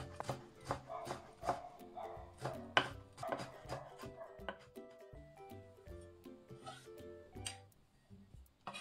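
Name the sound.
knife mincing lemon zest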